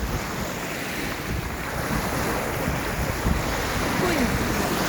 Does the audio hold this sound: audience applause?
no